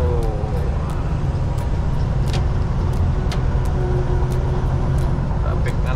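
Highway traffic on Highway 400 southbound in Ontario, heard from inside a truck cab hauling oversize lumber: a steady low engine and road rumble with a few faint clicks.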